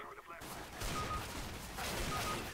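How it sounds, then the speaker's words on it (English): Desert Eagle pistol shots in CS:GO blend into a dense burst of game gunfire, loud and close over a thick, noisy mix throughout. "A deagle."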